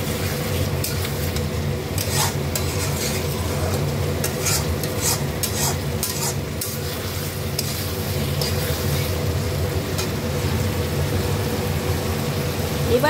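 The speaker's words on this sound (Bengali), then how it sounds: "আলুটা দিয়ে আমি আরেকটু নেড়ে নেবো" Large chunks of potato for dumur dalna, a Bengali fig curry, are stirred and fried in a pan. A steady, close sizzle runs throughout, broken by repeated scrapes and clinks of the spatula.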